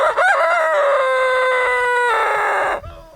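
A backyard rooster named Hilda crows once, loud and close, a long sustained cock-a-doodle-doo that rises, holds, and then cuts off abruptly, with no voices over it.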